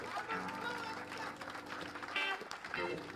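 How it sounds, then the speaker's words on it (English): Live radio show audience in a small venue applauding, a fairly quiet spread of clapping mixed with cheers and chatter, steady over the whole stretch. "How about a great big round of applause?"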